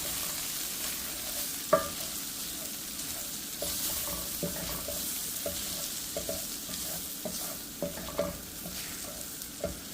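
Spices being stirred into a sizzling pan on a medium burner for split pea curry with cracked wheat, a constant soft fry punctuated by scattered spoon scrapes and clicks, close and moderately loud with no talking.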